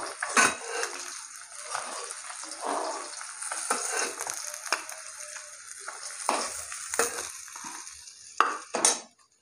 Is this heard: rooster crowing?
no